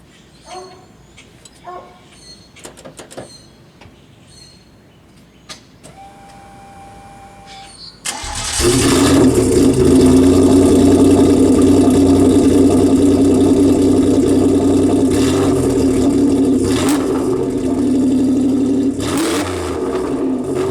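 A 1986 Pontiac Fiero GT with a swapped 3400 twin-cam V6 from a Chevy Lumina Z34 cranks briefly after some quiet handling noises, then catches and settles into a loud, steady idle close by.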